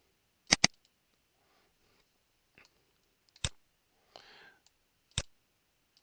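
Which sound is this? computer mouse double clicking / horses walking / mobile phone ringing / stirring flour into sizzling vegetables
computer mouse double clicking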